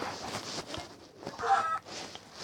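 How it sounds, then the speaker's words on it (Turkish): A chicken in the Minecraft mobile survival game clucks in a short burst of a few notes, fairly close, over a quiet background. "Abi içeride tavuk var yani"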